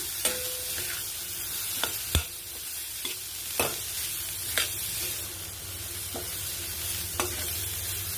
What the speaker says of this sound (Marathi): बीट आपण आता मिक्स करून घेऊ